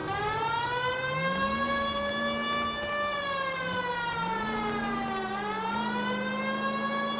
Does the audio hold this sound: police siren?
yes